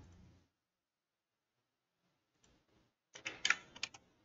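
A computer keyboard is typed on while entering an AutoCAD command: a short burst of several quick, close key clicks near the end, after faint sounds and near silence.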